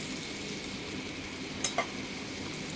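Onions frying with salt in a pan give a soft, constant sizzle with two brief scraping stir sounds near the end, no voices.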